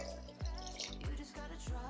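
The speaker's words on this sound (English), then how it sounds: "See what happens when I pour the water face into the oil face" Water phase being poured into the oil phase for homemade emulsified body butter, heard as a series of soft, hollow liquid drips and plops with a faint continuous trickle between them, quiet and close.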